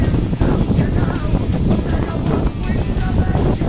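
Gusty wind buffets the microphone with low, rumbling blasts that rise and fall throughout.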